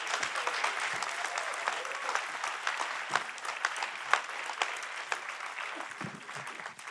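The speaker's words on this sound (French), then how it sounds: "un tonnerre d'applaudissements pour René Pilato." Applause from a crowd at a political public meeting, a continuous rattle of many hands clapping at moderate distance, with a few sharper individual claps standing out and no talking over it.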